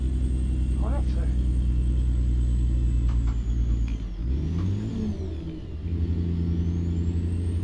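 Ford CLT 9000 truck in American Truck Simulator, pulling a tanker, its engine droning loud and steady; the pitch sags as it splits down a gear, then climbs back when it shifts up again.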